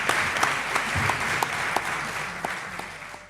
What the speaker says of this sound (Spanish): un aplauso fuerte, muy fuerte para Virginia